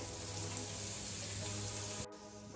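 Onion and green chili fry gently in a pan with a soft, even sizzle under a low steady hum, close and continuous, then cutting off abruptly near the end.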